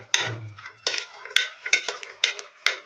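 A spoon clinks and scrapes against a metal pressure cooker while kabuli chana is mixed with water and a spoonful of oil, giving about seven sharp, irregular knocks with short scraping in between.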